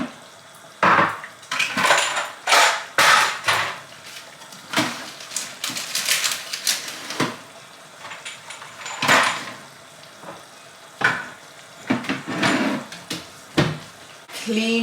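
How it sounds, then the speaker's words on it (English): Dishes being cleaned up in a home kitchen while a lasagna sauce cooks: loud, close clinks of cutlery, clattering plates and pots, and knocks in irregular bursts, with running water between them. "I'm gonna clean up while the sauce is cooking up."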